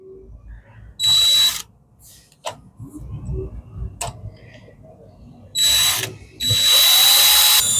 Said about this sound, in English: We're going to drill the hole in here.